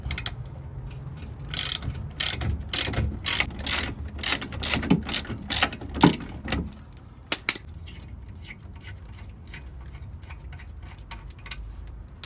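A ratchet spanner undoes the nut on a car's rear spring, making a run of quick clicking ratchet strokes and metallic taps that trail off into quieter background.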